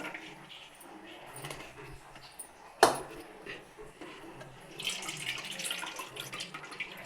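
Tamarind water is poured into a pot for a ginger curry, a soft trickling splash with one sharp clink of a vessel, close by and moderately loud.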